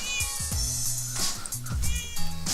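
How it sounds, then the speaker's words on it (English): A cat meows repeatedly outdoors at a Maui property while hiding in garden bushes, with several drawn-out, fairly close calls spread across a couple of seconds and some rustling between them. "Miss Meow is hiding somewhere in the bushes"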